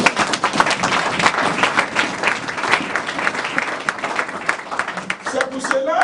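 A church congregation at a sermon bursts into sustained applause, loud and close, a dense wash of many hands clapping that holds steady for several seconds, with a few voices rising near the end.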